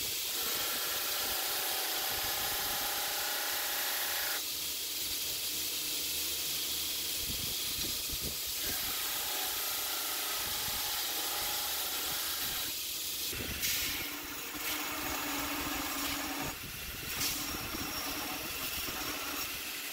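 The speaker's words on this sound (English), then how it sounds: "Here I'm just grinding in my bevels nice and slow, making sure not to overheat the knife." A grinder works slowly on the bevels of an already hardened knife made from copper and cable, a continuous hissing abrasive rasp whose pitch and intensity shift as the blade moves, close and steady with no speech.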